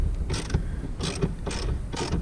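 Mechanical creaking and ratcheting as a car shifter is bolted down during a driveshaft and center console install, three or four bursts of grinding metal strain at a steady rhythm, close and fairly loud, with no talking.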